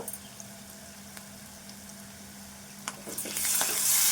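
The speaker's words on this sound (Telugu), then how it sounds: "ఇవన్నీ ఈ ఉల్లిపాయ ఇట్లా వేగేదాకా వేయించుకుందాము" Ginger and onion paste frying in a pan makes a steady sizzle over a low hum, with a few stirring clicks, then the sizzle flares louder and brighter near the end.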